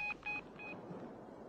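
Telephone keypad tones as a number is dialed, three short evenly spaced beeps close by, then quiet background hiss.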